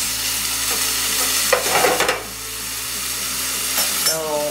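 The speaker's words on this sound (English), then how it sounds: "So while that bacon is cooking" Bacon frying in a pan: a loud, close, continuous sizzle with a burst of stirring and crackle partway through and a short higher hiss at the end, no one talking.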